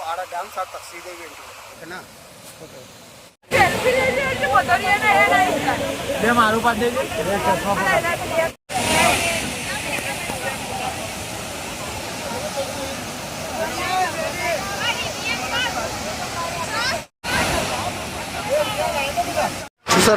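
Waterfall at Ooty used as a film shooting location, a steady rushing hiss of falling water that fills the background beneath someone talking close to the microphone, with several abrupt cuts.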